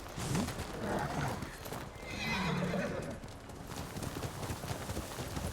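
A horse in the video game Ghost of Tsushima whinnies loudly over rapid galloping hoofbeats, the neigh rising and falling in the middle of the steady clip-clop.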